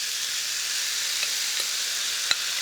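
Jalapeño hash frying in chorizo fat, spread flat like a pancake, with a loud, dense, steady sizzle and a few faint pops, close and continuous with no voices.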